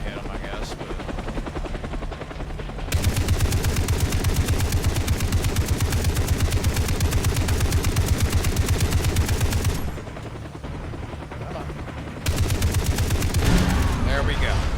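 Bursts of automatic gunfire from the video game Far Cry 3, rapid and continuous, with a helicopter's rotor thrum throughout and a short lull partway through before the shooting resumes.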